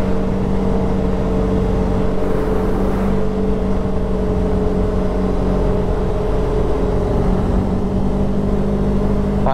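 A Segway Fugleman UT10 utility vehicle on the move, its engine giving a steady, continuous mid-pitched drone with little change in loudness throughout.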